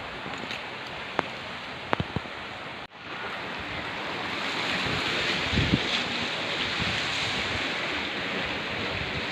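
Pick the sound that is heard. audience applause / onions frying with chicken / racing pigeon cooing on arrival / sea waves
sea waves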